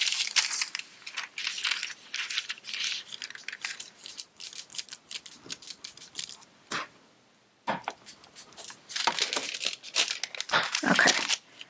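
Gold foil lightly rubbed by hand onto a stencilled slimline card, giving dense crinkling and crumpling rustles in bursts, close and fairly soft, with short pauses and no talk.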